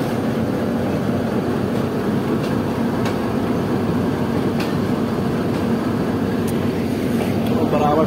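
A train being brought into the platform at Rawalpindi railway station, giving a loud, steady rolling rumble and clatter of wagons that continues unbroken throughout.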